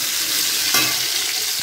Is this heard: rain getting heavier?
no